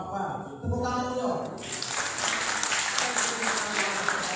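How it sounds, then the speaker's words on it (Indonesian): Applause from attendees at a plenary meeting in Jakarta, starting after a moment of talk and continuing as steady clapping to the end, with voices underneath. "Tepuk tangan dulu."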